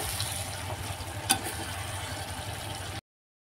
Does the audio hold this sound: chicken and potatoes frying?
yes